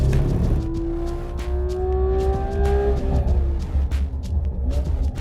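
Porsche 991 GT3 RS accelerating hard out of a corner on track, a loud close engine howl rising sharply in pitch over several seconds, then easing, with steady road and wind roar beneath.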